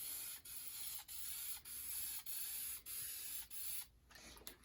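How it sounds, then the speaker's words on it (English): Spray gun applying primer over a car dent repair, about seven steady hissing passes each a half-second long, separated by brief pauses, close and fairly even in loudness. "you want to spray one full pattern across, go halfway across the span of the paint"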